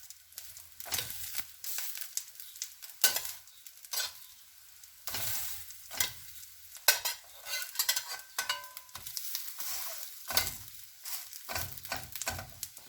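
Steady crackling sizzle of acacia flower fritter batter frying in hot oil, with bursts of spattering and occasional stirring, no talking.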